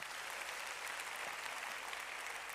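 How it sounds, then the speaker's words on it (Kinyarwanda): A church congregation gives a round of applause during a Kinyarwanda sermon, a dense, even wash of many hands clapping that holds steady and sounds somewhat faint and distant. "Tumukomera amashyi."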